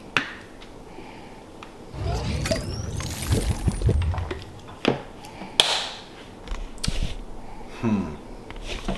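Ice cubes clink into a glass and a drink is poured for a taste test, giving a splashing, gurgling pour with sharp knocks and clatters up close and no talking.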